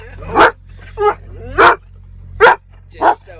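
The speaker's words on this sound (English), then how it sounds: "let's just say hello to Haley Dog right quick" Excited dog barking in a vehicle cab: five loud, sharp barks spaced roughly every half second to second, close to the listener, with some whining between them.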